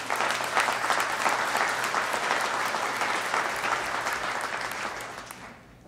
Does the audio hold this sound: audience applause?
yes